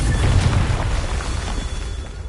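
A Confringo spell explosion in Hogwarts Legacy, a dense low booming burst that rumbles loudly and continuously for a couple of seconds, close and alone without talk.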